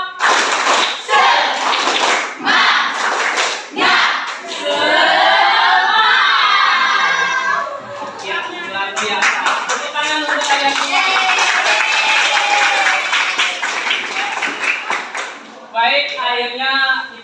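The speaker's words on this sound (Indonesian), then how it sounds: "Oke, tepuk semangat." A class of schoolchildren doing a rhythmic spirit clap in a classroom, with bursts of patterned clapping mixed with loud chanting and shouting voices throughout.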